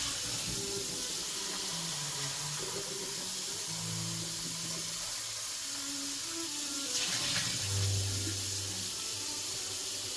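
A faucet runs in a steady hiss while a container is rinsed out under it. Faint clunks and shifting tones sit beneath the water.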